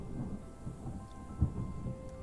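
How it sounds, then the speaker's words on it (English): Rain and thunder in the video game Terra Nil, a steady soft hiss of rainfall with a low rumble underneath and one brief thunder thump partway through, no voices. "it's gonna rain in a second"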